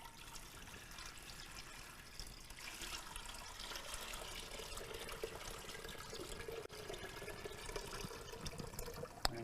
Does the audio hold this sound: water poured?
yes